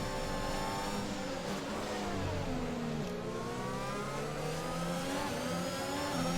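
Formula 1 car engine at full race pace in the F1 2021 game at the Dutch Grand Prix, a steady loud high-pitched whine with rising and falling gear tones throughout, no talk.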